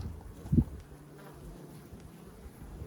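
A low, faint hum of bees buzzing steadily around a hive, with one brief dull thump near the start.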